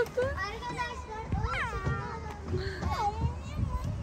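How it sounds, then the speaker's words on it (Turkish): Cats meowing in a park at night, several plaintive rising-and-falling meows close by, with people talking over and around them throughout. "Kediler sardı Murat'ı."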